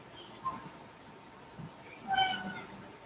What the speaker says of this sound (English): that was my cat that just got shushed